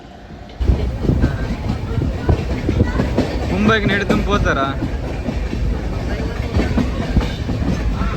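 A train rumbles along steadily with rhythmic clatter of wheels on rails, close and continuous, while people talk over it.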